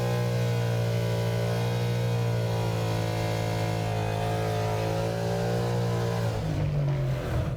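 A car held on a line lock with a 2-step launch control roars through a burnout, engine revving hard and steady with a loud droning tone that shifts and rises near the end, no voices.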